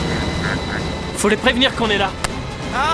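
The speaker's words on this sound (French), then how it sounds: "C'est un hélicoptère de sauvetage" A rescue helicopter drones as a steady, continuous rumble in the background, while people shout and call out over it.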